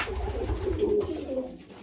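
Pigeons coo softly and steadily inside a pigeon loft on a hot summer day, a low, murmuring burble that continues throughout with no talking.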